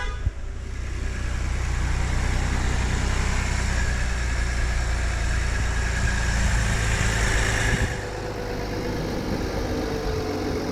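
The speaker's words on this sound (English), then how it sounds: "start the vehicle, let it idle" A Ford Edge Sport's 2.7L EcoBoost engine idles with a steady low rumble and faint hiss, heard up close after an oil change, with a brief knock near the start.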